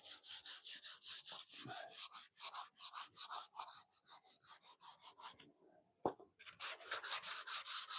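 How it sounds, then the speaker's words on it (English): Paint is sanded on a plywood speed bag drum in a quick, steady back-and-forth rasping rhythm, close and clear, broken by a short pause and a single knock before the scrubbing resumes. "as soon as you start sanding the paint down"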